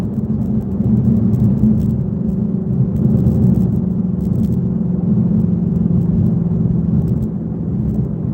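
A Shelby GT350 engine drones and rumbles steadily under load through downshifts, a loud, continuous low growl inside the car with faint rattles, and no one talking.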